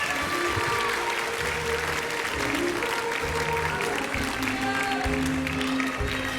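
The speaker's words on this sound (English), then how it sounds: "Give your stars one more round of applause." Pageant audience applause at the Miss Oklahoma Pageant, a dense sustained roar of many hands clapping throughout, with tonal music or voices faintly underneath.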